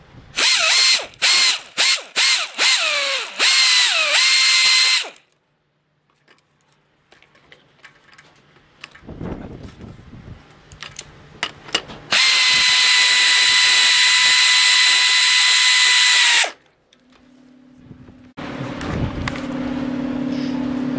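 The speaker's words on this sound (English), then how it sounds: "we're actually going to use the impact wrench and spin a little, and that's tight enough" An impact wrench snugs the bolts on a tilting wind turbine assembly: a run of short, loud whirring bursts, then a quiet stretch, then one long sustained rattling spin close to the mic.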